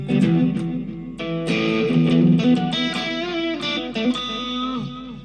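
An electric guitar played through a Cuvave Baby mini multi-effects unit plays a quick lead line with a slightly driven, effected tone, notes bending and sustaining with no voices.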